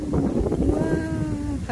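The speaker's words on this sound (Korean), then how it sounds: "바람이 많이 불어요." A strong wind gusts over open water, with loud rumbling buffeting noise that fills the short stretch, and a brief faint tonal whine rises from it partway through.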